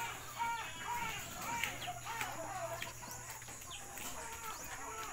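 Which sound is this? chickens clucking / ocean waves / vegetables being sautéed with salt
chickens clucking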